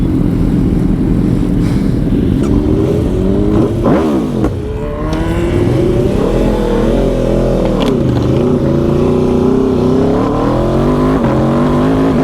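A loud Aprilia RSV4 superbike engine revs and roars continuously, pitch climbing and dropping as the throttle opens and closes, with quickshifter shifts and pops and bangs, up close with no talking.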